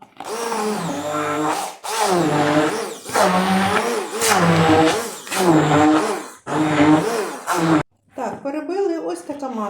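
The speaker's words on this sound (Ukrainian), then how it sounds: "і всю масу перебиваю блендером" Handheld blender whirring through a cheese filling for a grated cake, several loud close bursts of a few seconds each with pitch rising and falling under load, separated by brief pauses, then a quieter stretch at the end.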